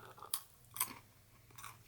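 A Snyder's pretzel crunches under chewing in three short, crisp, close bites spaced about half a second apart, against a quiet background.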